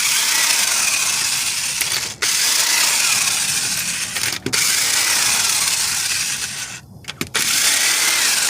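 A ratchet or powered tool whirs continuously as 19mm wheel lug nuts come off a 2009 Chevy Cobalt, with loud steady mechanical buzzing broken by a few short pauses and clunks.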